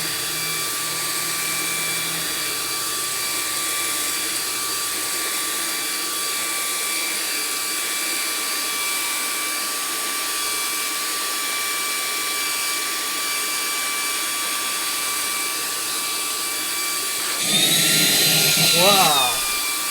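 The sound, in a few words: VICSONIC handheld vacuum cleaner running on high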